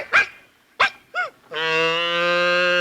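Two sharp, yelping dog-like barks and a short bleat come first, then a sacred cow begins a loud, sustained moo that continues to the end.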